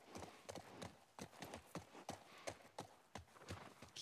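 Horse hooves clip-clop in The Last of Us Part I, a steady, even rhythm, quiet and somewhat distant, with no other sounds standing out.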